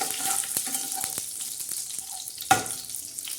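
Curry leaves sizzle in hot tempering oil for a Maharashtrian sev bhaji, with a steady high crackle and a few sharp spatula knocks against the pan, the loudest near the end.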